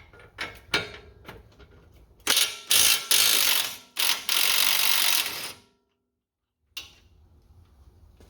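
A ratchet clicks rapidly while undoing a Torx bolt on a 7075 aluminum Bronco suspension link, short bursts then a longer sustained run of ticking, close up, followed by silence and a final clunk.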